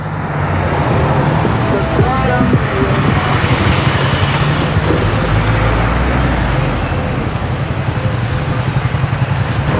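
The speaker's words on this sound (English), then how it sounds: "so we'll just wait for a little break in the traffic, because there rarely is" Dense, steady road traffic on a busy street in Cancun, Mexico, with cars, buses and trucks rumbling past continuously and loudly from up close, without a break.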